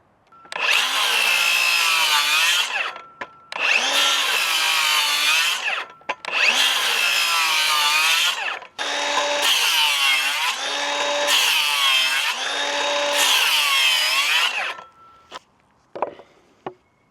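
A circular saw, blade set to 1.5 inches, cuts through 2x4 lumber for a chicken coop, with six loud sustained passes of whining cutting, each ending abruptly, followed by a few clunks.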